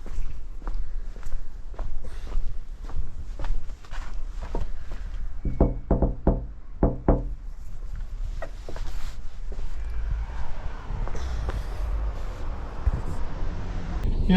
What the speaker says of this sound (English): Let's knock again, see if we can rescue this old girl.